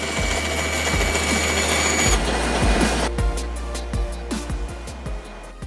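A bandsaw cuts a wooden inlay ornament, giving a steady droning whir with a hum underneath. Several brief rasping bursts come through as the blade bites into the wood, and the sound sits close and fairly loud without any talk.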